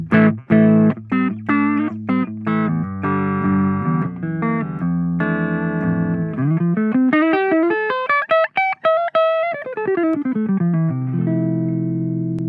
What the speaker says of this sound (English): essentially my clean sound on the neck pickup sounds like this.